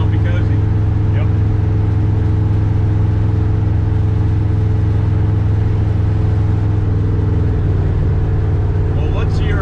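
Old patina-covered car cruising at 55 mph, a steady loud low engine drone and road rumble running continuously throughout, with no break in the hum.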